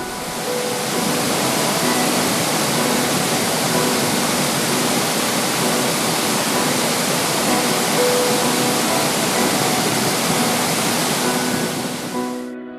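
A waterfall in the Brecon Beacons, heard from behind the falling water under a sandstone overhang, roars as a loud, dense, unbroken wash of noise close by.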